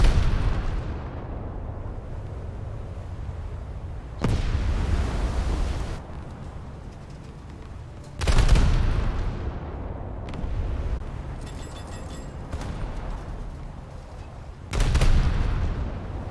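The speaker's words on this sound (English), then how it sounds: "Firing full gun salvos and everything." A warship in a naval battle game fires full gun salvos: a heavy booming blast with a long rumbling decay, followed by three more thunderous salvos spaced several seconds apart.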